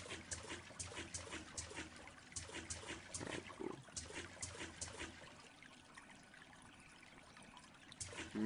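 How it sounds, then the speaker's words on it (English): Water trickles and pours as a bottle is filled in the video game Unturned, a faint, steady splashing stream lasting several seconds with sharper bursts toward the end. "Fill it up with water."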